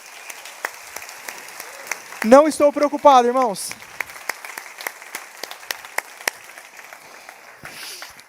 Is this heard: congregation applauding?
yes